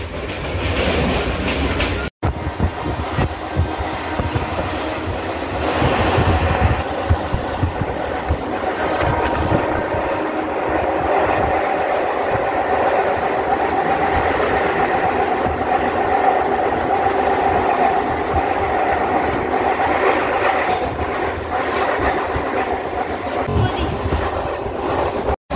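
Dadar-Virar double fast local train running near Vasai Road, a continuous loud rumble and rattle of the carriages with clickety-clack and wind rushing past the microphone, heard from inside for the whole stretch without speech.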